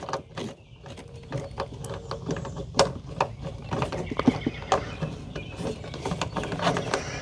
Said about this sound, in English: So we're going to screw it on.